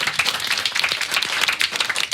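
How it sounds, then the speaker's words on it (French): Children on a French TV show clap and applaud together in a brief burst of dense, fast clapping, close and fairly loud with no speech. "Vous pouvez vraiment vous applaudir"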